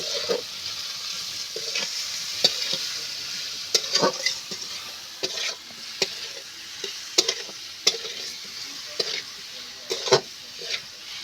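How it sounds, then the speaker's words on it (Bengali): Spiced ingredients fry and get stirred in a pan for a vegetarian chola bora curry, giving a steady close sizzle with repeated sharp scraping clicks of the spoon every second or so. "এবার আমি সবগুলো উপকরণ ভালো করে কষিয়ে নেব"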